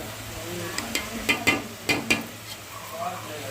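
Tomatoes cooking down in a pan for curry while being stirred, a soft simmering sizzle under a handful of sharp scraping and tapping strokes of a spoon against the pan, close by.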